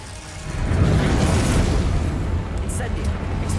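A Glacius ice spell from Hogwarts Legacy erupts with a loud, rumbling burst that swells, then slowly fades, heard close with a voice in the background.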